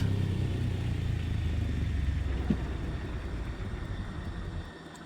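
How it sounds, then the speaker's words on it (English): Simulated C-47 right engine spooling down after idle cut-off in Microsoft Flight Simulator 2020: a steady low propeller-engine rumble that gradually fades and drops away toward the end, with no talk. "And mixture on the right engine, idle cut off."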